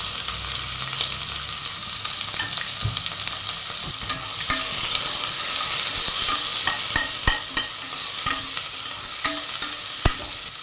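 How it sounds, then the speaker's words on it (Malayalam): Onions and green chillies fry with cloves, cardamom and fennel seeds for a coconut-milk egg curry, a steady hiss with a spoon scraping and tapping the pan in sharp, irregular knocks throughout. "രണ്ട് ഗ്രാമ്പൂ ഒരു ഏലക്കായി കാൽ സ്പൂൺ പെരിഞ്ജീരകം തൊട്ട് രണ്ട് സവാളയും മൂന്ന് പച്ചമുളകും ചേർത്ത് കൊടുക്കും"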